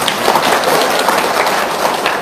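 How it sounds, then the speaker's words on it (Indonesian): Steady applause from an audience at an evening event, dense and continuous with no gaps, loud and close throughout. "Tepuk tangan dulu dong."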